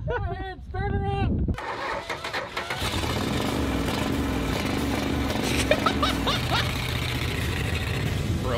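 A 1969 Dodge Charger engine cranks and catches after a brief voice, then settles into a loud, rough, continuous running rumble close by, with excited talk briefly over it.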